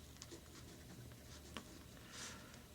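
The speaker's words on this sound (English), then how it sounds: "Let me write that down." Pen writing on paper while working out a trigonometry proof, faint scratchy strokes and light taps in short bursts, quiet and close with no talking.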